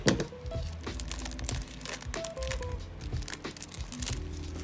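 Crinkling plastic wrapper of a Yu-Gi-Oh OCG card pack and snipping scissors, a close, busy rustle of crumpling and cutting with brief sharp cracks throughout.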